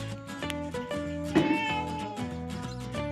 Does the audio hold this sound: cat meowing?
yes